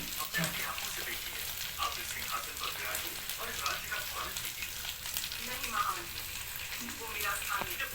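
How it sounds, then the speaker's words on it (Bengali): Onions frying in a pan with chilli powder, turmeric and cumin powder added, giving a steady close sizzle with small crackles throughout, under faint background voice. "এবং পেঁয়াজটা ফ্রাই হচ্ছে।"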